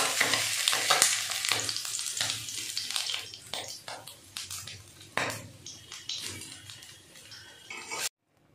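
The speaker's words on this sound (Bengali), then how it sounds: "আমার মাছ ভাজা হয়ে গেছে।" Small kachki fish frying in a pan for a potato chorchori: loud, close sizzling with stirring scrapes and light utensil clinks, fading in pulses before cutting to silence near the end.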